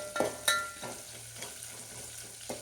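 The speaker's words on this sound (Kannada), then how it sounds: "ಇದು ಫ್ರೈ ಮಾಡ್ಕೋತಾ ಇದ್ದೀನಿ" Coriander frying over a medium gas flame for a radish sambar tempering, with a light crackling sizzle and a couple of sharp utensil taps near the start.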